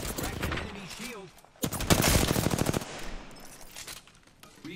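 Rapid automatic gunfire in the shooter game Apex Legends, a brief burst followed by a longer, louder stream of shots, with voices speaking over parts of it.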